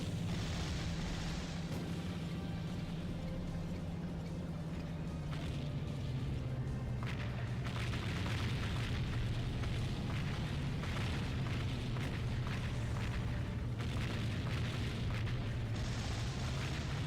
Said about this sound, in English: Drop bombs and run.